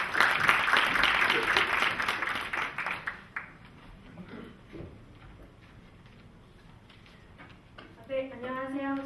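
Audience applause at a Korean startup pitch forum as the CEO of Hotel Now is introduced; a burst of clapping that thins out within about three seconds, followed by quiet room noise, scattered sounds and a voice beginning to speak.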